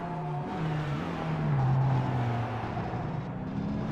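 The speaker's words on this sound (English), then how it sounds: "you can hear the revs go up" A racing car engine in a Le Mans sports-car sim racing game revs up, its steady whine climbing in pitch after a gear change, loud and close with no voices.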